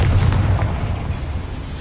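Confringo blasting spell exploding in Hogwarts Legacy, a heavy, close, low booming blast that rumbles steadily for under two seconds without a distinct sharp attack.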